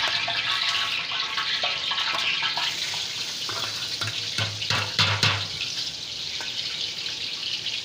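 A kilo of chopped onions goes into two kilos of hot oil in a large deg pot, giving a loud, steady, hissing sizzle that runs throughout. A few sharper crackles stand out near the middle, and no one talks.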